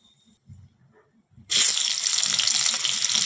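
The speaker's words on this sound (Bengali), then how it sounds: "আমি পেঁয়াজ কুচিটা দিয়ে দেব।" Chopped onion drops into hot oil already tempered with chili and cumin, bursting into a loud, steady sizzle after a quiet stretch of low pan sounds, for a Bengali rui fish and potato curry.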